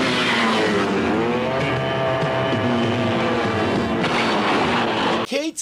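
A stunt motorcycle revs hard before a jump off a shipping-container ramp, its engine roaring loud and close in a sustained, rising-and-falling drone, then cutting off abruptly into a brief rattle near the end.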